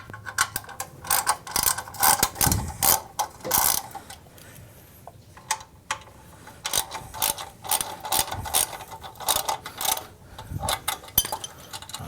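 A hand ratchet loosens bolts on a 2017 BMW R1200GS Adventure motorcycle exhaust cover, giving repeated bursts of close, dry clicking with brief pauses between strokes.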